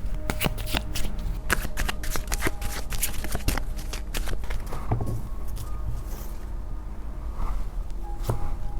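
Oracle cards shuffled and drawn by hand, a dense run of close, crisp riffling flicks and slaps that thins into softer card handling toward the end, with a faint low hum beneath.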